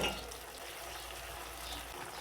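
Water poured into a pan of homemade chicken jhal roast for the gravy, a steady broadband rush and hiss that holds at an even level for the whole stretch, with no talk over it.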